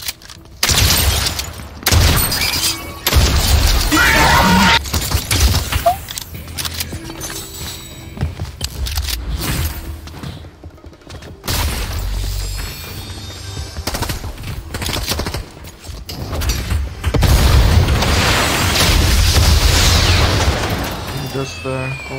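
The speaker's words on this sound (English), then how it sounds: "I'm gonna shoot him" Gunfire in Fortnite: repeated bursts of rapid shots and booms come in several loud clusters across the stretch, mixed with a player talking intermittently.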